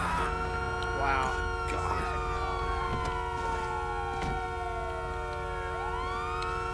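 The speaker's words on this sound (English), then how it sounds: "we did have our lights and sirens on" Police car siren in the Los Santos video game world, a loud wailing tone sweeping up and down continuously while a voice talks underneath.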